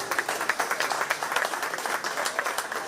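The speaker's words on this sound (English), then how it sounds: "Why don't we give these junior exhibitors a round of applause?" A county fair crowd at a 4-H junior cattle show gives steady, rapid applause for the young exhibitors, with dense overlapping claps throughout.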